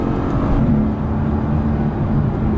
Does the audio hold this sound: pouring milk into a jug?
no